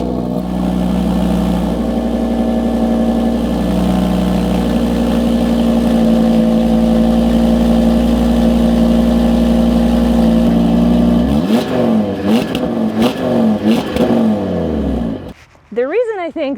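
2019 Audi RS3 in black, its engine holding a steady loud idle for several seconds before a burst of sharp revs that rise and fall, ending in a brief dip and a final blip.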